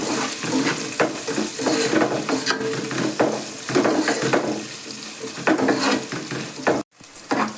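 Garlic, ginger, onion and capsicum fry together in a pan for honey chicken, a loud continuous close sizzle with occasional stirring scrapes and clinks.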